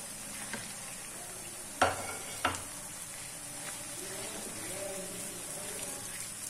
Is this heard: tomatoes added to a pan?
yes